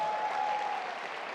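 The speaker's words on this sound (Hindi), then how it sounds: "सबके लिए जोर से ताली बजा दो यार।" Audience applause at a large fan meet for a film in India, a brief, dense burst of clapping from many hands that fades slightly at the end, with no voices.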